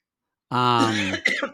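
A single harsh, voiced cough or throat-clearing from a poodle sounds close by, followed by a brief raspy catch of breath.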